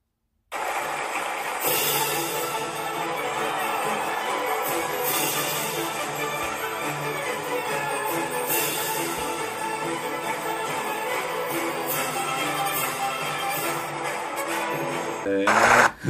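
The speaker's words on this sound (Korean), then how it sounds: "오페라 까르멘 서곡 들려드리겠습니다" An orchestra plays the overture from the opera Carmen in a concert performance, full and bright with brisk rhythmic strings and brass, a continuous lively passage that starts after a brief silence.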